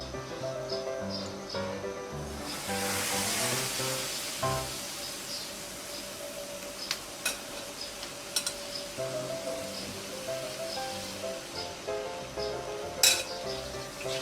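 Chicken breast sears steadily in a frying pan, a soft constant hiss broken by a few sharp clinks of utensils against the pan.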